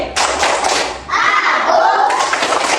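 A second-grade class claps hands together in a rhythm, sharp bursts of clapping broken by a brief pause, with children's voices rising in between.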